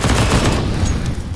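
Rapid gunfire in the shooter game CSGO, a loud, dense burst of shots rattling together for over a second before tapering slightly, with no voices.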